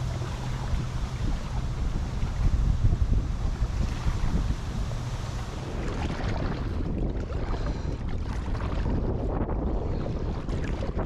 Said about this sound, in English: So enjoy that paddling footage.